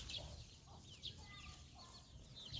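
Free-range chickens with many small chicks outdoors in the late afternoon, soft overlapping peeping and occasional clucks at low level against a steady outdoor background hiss, with no voices.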